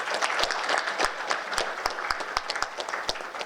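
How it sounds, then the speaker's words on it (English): An audience at a Sri Lankan event applauds together, a dense, sustained round of clapping with individual sharp claps standing out, fairly close and loud throughout. "Let's keep applause"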